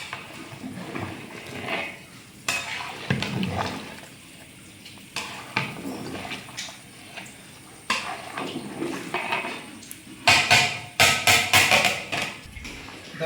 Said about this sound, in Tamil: அப்படியே கொதி வருது